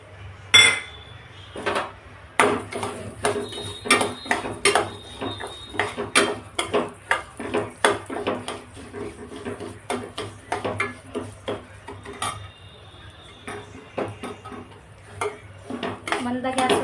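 Broken wheat lapsi roasting in ghee in a pan on low heat, stirred with a metal spoon: a steady run of close, irregular scraping clinks and clatters against the pan over a faint background hum.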